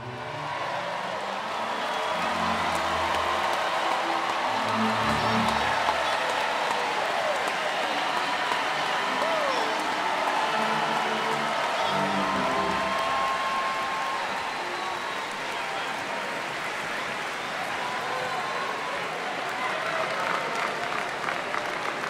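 Sustained applause from a college commencement crowd fills the whole stretch, dense and steady, with a few scattered voices and whoops mixed in.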